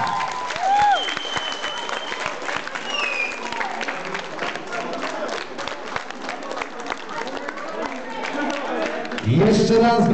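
Audience at a school prom clapping and cheering, a steady crowd applause heard beneath a voice speaking over it, swelling louder near the end.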